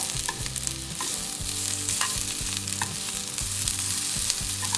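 Grated coconut fries in a pan for a Kerala-style thattukada vegetable curry, giving a steady close sizzle with soft stirring scrapes throughout and no voices.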